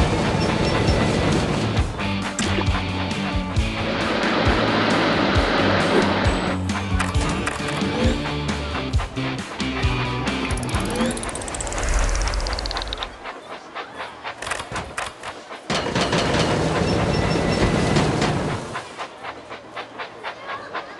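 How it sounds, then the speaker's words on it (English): A Thomas & Friends Minis toy train engine runs along a train set track with continuous rattling clicks and clatter, loud and close, dropping briefly quieter in the middle before resuming, then fading lower near the end. "Clear the tracks! Engine coming!"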